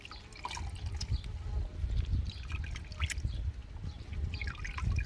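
Seasoning being squeezed and worked by hand in water for cucumber water kimchi, a steady wet squishing and trickling close up that carries on without a break and without talk.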